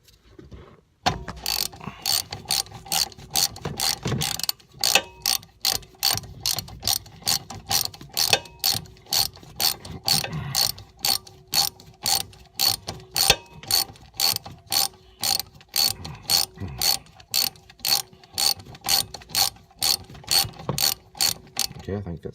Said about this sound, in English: we'll loosen this bolt